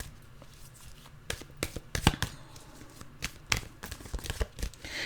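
Tarot cards are shuffled close up in a quiet room, giving a run of soft papery riffles and sharp slaps and taps in uneven bursts, with no talking.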